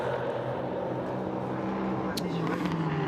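A Ginetta prototype race car crossing the finish line at Paul Ricard in a European Prototype Sprint Cup race, its engine a steady loud drone with a brief high whine near the end, under a commentator's voice.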